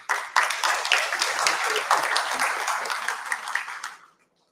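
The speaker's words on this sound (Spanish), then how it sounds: "para quien le pedimos fuertes palmas, por favor" An audience at a university thesis-guidance workshop breaks into steady applause for an invited speaker, a dense roomful of clapping that holds for about four seconds and then stops abruptly.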